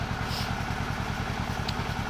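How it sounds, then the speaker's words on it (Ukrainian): A tractor engine rattles close by with a fast, steady, rhythmic clattering chug at constant loudness, and no one speaks over it. "розказувати не знаю, як розказувати, бо буде трактор тарахкотіти"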